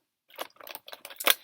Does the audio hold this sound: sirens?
no